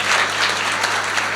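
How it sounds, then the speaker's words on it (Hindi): An audience claps loudly and steadily throughout at a stage comedy and poetry show in Haryana. "जोरदार ताली।"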